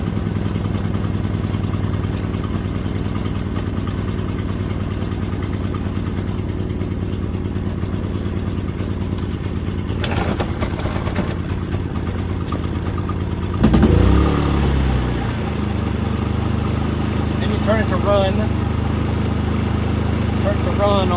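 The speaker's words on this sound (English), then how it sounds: "Let's fire it up with a pull start." Predator 3500 inverter generator running after a pull start, a steady close humming engine drone that shifts pitch and load partway through, with a person talking over it.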